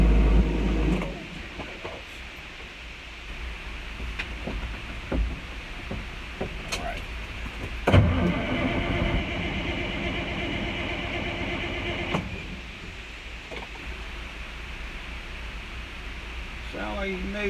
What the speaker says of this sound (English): We're going to do the cold start.